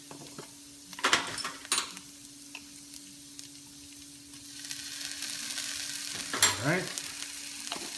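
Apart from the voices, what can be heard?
ginger and garlic sautéing in a pan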